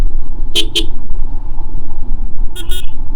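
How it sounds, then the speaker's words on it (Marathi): Two short car horn toots early on, then another pair of honks near the end, over steady road and engine rumble. "horn they"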